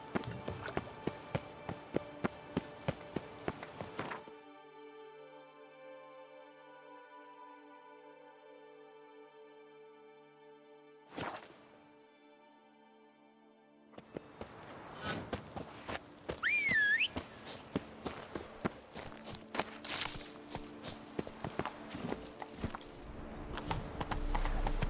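Roach, a horse in a video game, gallops with rapid hoofbeats that break off into a quiet stretch with sustained musical tones, then return loudly in a fast rhythm alongside a brief whistle.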